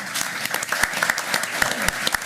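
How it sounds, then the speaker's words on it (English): At a county board of commissioners meeting, a small audience applauds retirees' spouses, a brisk patter of individual claps close by with a few louder hand strikes standing out and faint voices beneath. "give them a round of applause too"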